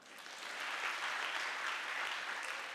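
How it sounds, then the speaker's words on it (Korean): A church congregation at a Friday special service breaks into applause. The dense crowd clapping swells in over the first half second, then continues at a steady level with no talking. "박수 한번 주세요."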